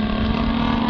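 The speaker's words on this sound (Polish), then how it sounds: "Model Pit 12, silnik DLA 56." A laminate Pitts 12 model biplane with a DLA 56 gas engine drones steadily nearby, a continuous loud buzz with no pauses or talk.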